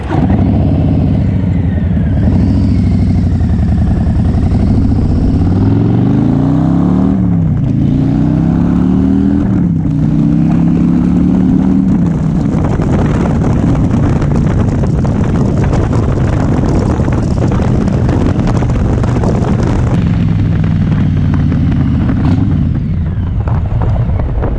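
Motorcycle ridden in normal riding mode, the engine note climbing and dropping through several gear changes under heavy, roaring wind buffeting on the microphone.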